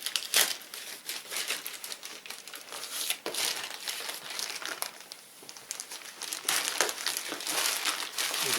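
Plastic wrapping crinkles and crackles around a product box during unboxing of a packed Albot mid-size Ti-Pod, with continuous close rustling and sharper crumpling bursts throughout, no talk.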